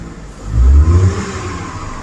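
Close and loud, a Tata Altroz 1.2 petrol three-cylinder engine swells in a short rev, peaks, then drops back to a steady idle hum, with no voices over it.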